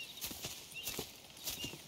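Hollow hoofbeats of horses in the video game Red Dead Redemption 2, clopping at a steady walking pace, a handful of distinct strikes in quick succession.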